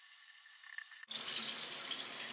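Water gushes from a sink faucet during hand washing: after a quiet second the flow abruptly starts and runs as a steady, close hiss of splashing water to the end.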